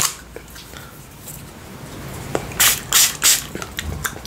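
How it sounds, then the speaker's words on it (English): Short close-up hisses from a blueberry monster spray candy, a few quick bursts in a row in a quiet room. "It's a monster spray. It will hide my bed breath."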